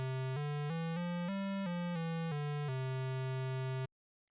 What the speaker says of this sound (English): Then the square wave.